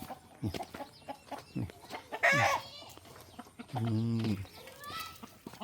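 Chickens on a farm cluck and squawk in short bursts, close and fairly loud, with one longer drawn-out call, while someone talks between and over the birds.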